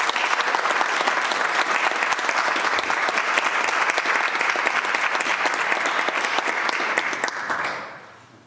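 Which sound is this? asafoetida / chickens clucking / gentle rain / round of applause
round of applause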